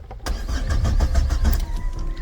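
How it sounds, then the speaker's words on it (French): A car engine cranks repeatedly without catching, a loud, close, rhythmic whirring grind pulsing steadily for a couple of seconds before a faint steady tone takes over. "La voiture n'a pas démarré, c'est chiant, chaque fois elle me le fait"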